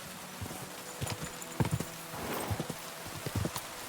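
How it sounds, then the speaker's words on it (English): Horse hooves clip-clop in the video game Kingdom Come: Deliverance II, with a run of irregular, fairly close hoofbeats, some clustered in quick pairs, heard without talk. "There's a horse here."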